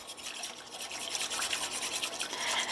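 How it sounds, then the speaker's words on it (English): Steady wet scraping and rubbing of a whisk stirring roux into broth for brown gravy, a continuous close, moderately quiet swishing texture with no talking. "just make sure you continue whisking and get all of that roux incorporated"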